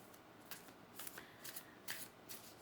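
An oracle card deck is shuffled overhand, giving a series of quick, soft papery riffles and flicks in irregular bursts, close and quiet, with no talking.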